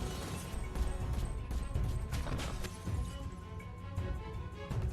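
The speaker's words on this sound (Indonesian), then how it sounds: "Ia pun segera menghujani kaca itu dengan tembakan" A dense, chaotic stretch of sharp gunfire cracks and smashing impacts, with breaking glass and blasts layered over a continuous low rumble.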